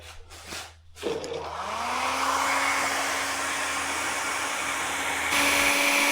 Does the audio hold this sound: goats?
no